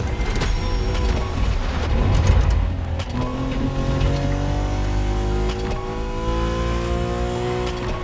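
Engine of a BMW Z4 M40i convertible driving in a racing video game, a loud steady engine drone with rising and falling gear pitch sweeps and a brief surge early on, close and without talk.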